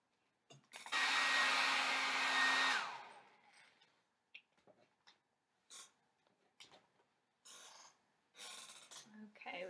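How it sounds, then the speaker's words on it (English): A blow dryer drying a painted canvas whooshes loudly for a couple of seconds, then cuts off, followed by soft breathy sounds and brief bits of talk. "if you're hitting it with a blow dryer, you might as well just dry it all."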